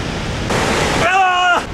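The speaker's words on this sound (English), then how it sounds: "Checking out some waterfalls." A waterfall in Norway roars as a steady broadband rush of falling water close by, with a person briefly speaking over it near the end.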